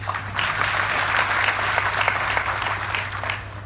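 Audience applause at a stage show, a continuous even wash of many hands clapping throughout, moderately loud over a low steady hum.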